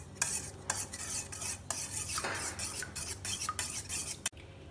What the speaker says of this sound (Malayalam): ഇതിലേക്ക് കുറച്ച് മല്ലിയില മുറിച്ച ചേർത്ത് മിക്സ് ചെയ്യാം